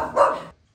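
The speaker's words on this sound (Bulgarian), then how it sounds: "Ето тук сме с кучето победител." A single loud, close dog bark lasting about half a second, followed by quiet; the dog is a winner of a national dog fashion contest in Kardzhali.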